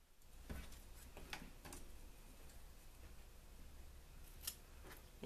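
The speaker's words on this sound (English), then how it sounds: "Let me grab a pair of scissors." A pair of scissors snips faintly at paper for ceramic tile decor in a quiet room, with a few scattered crisp cuts and ticks over a low background hiss.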